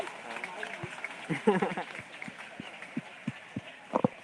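Scattered handclaps from a protest crowd in Connecticut ring out in uneven bursts under ongoing talk and outdoor murmur, with a denser cluster near the middle and a few sharp claps toward the end.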